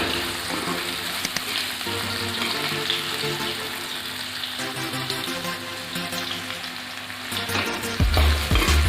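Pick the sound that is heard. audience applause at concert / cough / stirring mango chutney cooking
stirring mango chutney cooking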